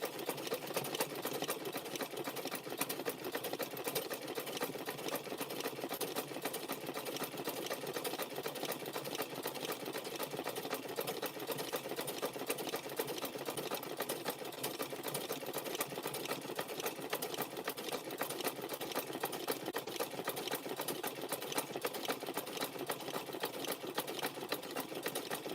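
A sewing machine stitching a fabric-wrapped rope handbag continuously at a steady medium speed, its even mechanical whir and rapid ticking running unbroken and fairly quiet.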